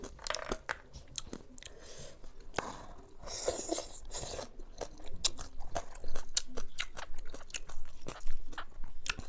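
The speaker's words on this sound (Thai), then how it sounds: "ทอดขี้แคบหมูล่ะ กรอบดี" Crispy deep-fried pork ear rind, served with spicy papaya salad, is bitten and chewed close up, giving repeated loud crunches and crackling snaps in an uneven rhythm throughout.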